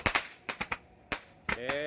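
A 100-shot fireworks cake fires outdoors, sharp close cracks going off in quick irregular bursts with short gaps, a faint whistling tone trailing the last shots.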